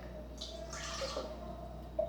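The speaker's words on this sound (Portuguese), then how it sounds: "Aí eu vou aqui no balde, pego uma água." Water is scooped out of a bucket in a home kitchen, with a brief splash and trickle followed by a few faint drips. The sound is close and quiet, with no talking.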